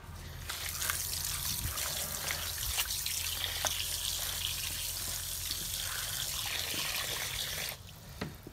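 Brine pours into a bucket holding alligator gar fillets, a steady close trickle and splash of liquid that runs for several seconds before tapering off.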